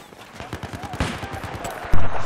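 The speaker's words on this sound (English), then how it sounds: "Oh, I like how I shot the guy in the head." Rapid automatic gunfire in Battlefield 4, a close, loud string of evenly spaced shots rattling for a couple of seconds, ending on a heavier burst.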